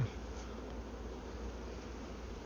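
A honeybee swarm buzzes in a dense, continuous drone close by, a steady low hum with no pauses and no talking.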